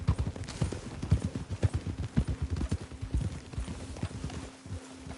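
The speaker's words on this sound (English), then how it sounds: "Get a hold of that horse" Horse hooves clip-clopping on the ground in the video game Red Dead Redemption 2, a quick, steady rhythm of close, distinct thuds over a low ambient hum.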